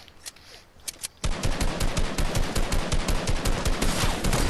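Fortnite video game gunfire: a couple of single shots, then dense automatic fire bursts in a loud continuous rattling stream.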